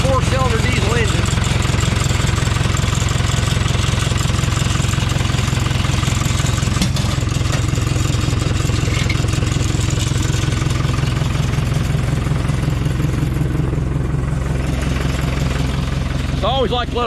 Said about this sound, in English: There's our 4-cylinder diesel engine.